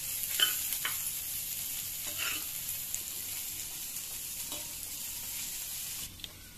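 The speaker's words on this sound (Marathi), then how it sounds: "चांगल्या प्रकारे परतून घ्या आणि पुन्हा तुम्ही 2 ते 3 मिनिटे वाफवून घ्यायचं आहे" Bitter gourd sautés in a pan, a quiet, even frying hiss with occasional soft spatula scrapes and knocks, close by and without speech.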